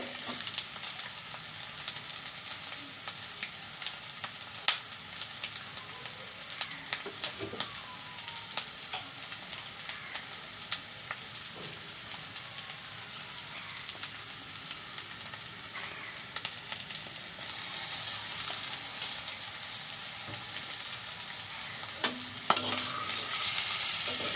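Ginger-garlic paste fries in a pan as an egg dish is cooked, a steady close sizzle running throughout with repeated scraping stir strokes and occasional utensil knocks, no voices.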